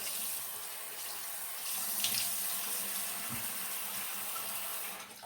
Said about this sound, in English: I just get my head wet with hot water.